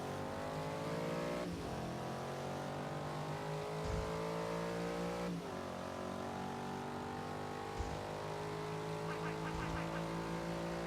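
Pickup truck engines revving and accelerating through a drag race in Forza Horizon 3, a steady loud engine drone with pitch rising through gear shifts and a few sharp shift breaks.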